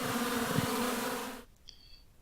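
Bees in the video game Age of Fear 3 give off a loud, dense buzzing swarm drone that cuts off abruptly, leaving a couple of brief faint tones.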